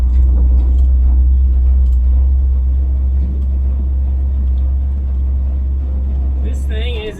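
A loud, steady engine drone with deep rumble from an old Ford F-100 pickup truck revived from a junkyard, cruising along, continuous throughout and fading slightly at the very end.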